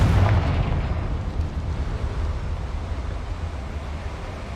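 A Confringo fire spell exploding in the Hogwarts Legacy video game, a heavy boom at the start that fades into a long rumbling roar, heard alone without speech.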